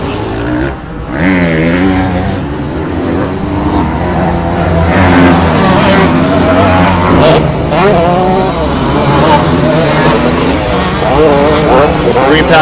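Motocross bikes, including a 125 two-stroke, race past at a track, engines revving and rising in pitch in loud overlapping waves while an announcer talks over the action.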